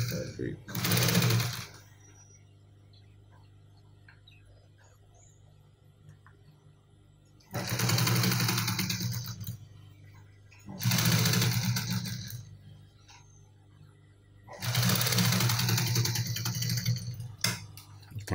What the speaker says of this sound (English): Make sure you're stitching on the tip of this fabric.